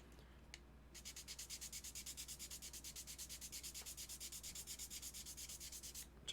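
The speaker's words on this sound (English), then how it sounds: "You can just hit these with a sanding block and just square these up" Rapid, even back-and-forth rubbing of a sanding block on a plastic model kit edge, about five strokes per second, close and quiet, starting after a brief pause.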